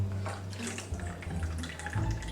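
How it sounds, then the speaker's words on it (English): Water pours steadily from a jug into a basin, a continuous splashing stream lasting a couple of seconds during a stage trick, with no talk over it. "More water is gonna come out from this jug."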